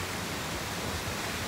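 Triberg waterfall in the Black Forest, Germany, cascading down its stages, a steady, dense broadband roar of falling water with no talk.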